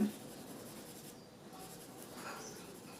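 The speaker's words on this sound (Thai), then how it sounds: "เราก็กลับมาจับดินสอ แบบที่หนึ่ง เหมือนเวลาเราเขียนหนังสือ" Pencil graphite scratches softly across paper in continuous shading strokes, faint and close, with no talk over it.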